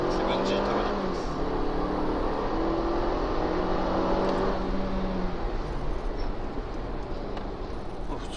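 Mercedes-Benz GLA250 with a 7G-Tronic automatic pulling away, its engine note climbing smoothly through gentle gear changes, steady and moderately loud with some cabin rumble.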